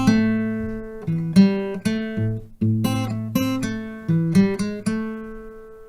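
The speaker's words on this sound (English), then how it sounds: "we do this chromatic walk up on the third string" Acoustic guitar plays a slow delta blues phrase, bass notes with a chromatic walk-up on the third string, picked notes ringing out clearly and close with no talking.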